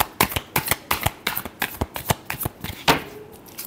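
A deck of tarot cards is shuffled close up in a quick series of crisp riffling bursts, about a dozen in a row, ending with a slightly longer riffle.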